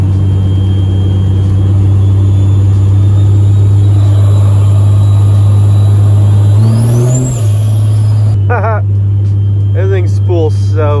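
Cummins 5.9 diesel truck engine idling with a loud steady drone, then a rising whistle of the turbo spooling up and falling away, followed by a short hiss of air.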